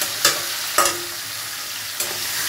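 Potatoes frying in hot oil in a home kitchen, a steady soft sizzle with three sharp stirring scrapes of the spatula against the pan.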